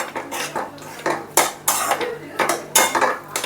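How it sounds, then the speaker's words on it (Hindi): Peanuts are stirred into hot sugar and jaggery syrup in a pan for chikki, with the gas flame switched off. Close, repeated metallic scrapes and clinks of a spoon against the pan come in uneven bursts. "अब इसमें मूंगफली को ऐड कर रही हूँ जो बनाया था मैंने।"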